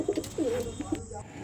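Competition-winning Andhra and Madras racing pigeons coo in soft, rolling bursts, close by, with faint background noise.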